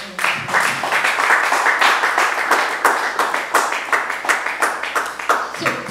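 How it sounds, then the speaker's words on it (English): An audience at an innovation and creativity fair breaks into loud, dense applause with many hands clapping together. It swells quickly, holds steady, and starts to thin out into scattered claps near the end. "Once again, can we give Engineer Amuzu for a round of applause?"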